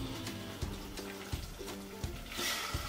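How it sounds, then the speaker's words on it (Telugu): Water pours into a cooking pot for fish biryani, a steady splashing and trickling stream heard close by and at low volume, with no talking. "వాటర్ వేసుకుంటున్నా"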